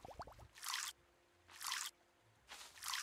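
Watering crops in the farming video game Roots of Pacha: three separate bursts of spraying, splashing water, each lasting about half a second and spaced roughly a second apart, fairly loud over a quiet background.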